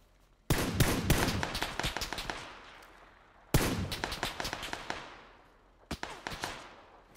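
Rifle shots in PUBG, fired through a 4x scope, come in three bursts of sharp, close cracks, each followed by a fading echo tail and quiet gaps between volleys.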